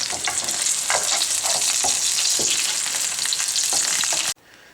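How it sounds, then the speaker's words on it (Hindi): Chicken breast mince kebab patties frying in a pan on low heat make a steady, loud, close sizzle with scattered crackles and pops, cutting off abruptly near the end, with no talking. "मैंने अच्छी तरह दोनों साइडों से इसको पकाया है, हल्की आंच में पकाएं ताकि कीमा अंदर तक कुक हो जाए"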